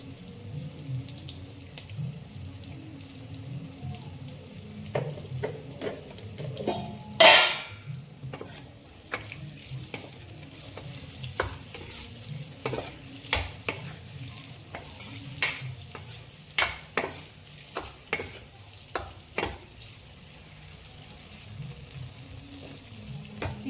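Soft sizzling from a pan of eggplant frying with masala, with repeated sharp scraping and stirring clicks, a spatula working through the food at close range, no talking.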